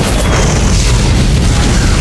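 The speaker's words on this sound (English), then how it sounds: "The explosion shook the whole building" A bomb explosion blast in an audiobook fills the whole stretch as a loud, dense roar with heavy low rumble. It sounds close and stands alone without any voice.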